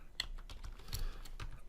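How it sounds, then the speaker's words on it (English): Fingers typing code on a computer keyboard, a quick irregular run of soft clicking key presses close to the microphone, with no voices. "here we need to type a lot of code first"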